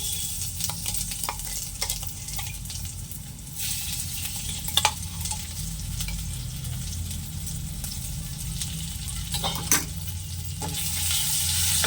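Spice paste sizzles and fries steadily in a hot pan, with a few sharp scraping clicks from stirring; no voices.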